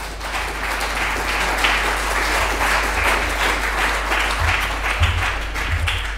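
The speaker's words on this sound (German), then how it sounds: "Applaus" A party rally audience in a large hall applauds steadily. The sustained, broad clapping runs throughout at a fairly even level, over a low hum.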